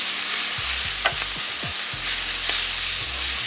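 Braised collard greens are stirred around a pan, giving a soft steady sizzle with several short scraping pushes of a utensil, fairly close and with no talking.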